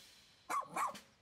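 A dog in Pikmin 4 gives two quick, faint yipping barks, close together and alone, with a soft start of a third at the end.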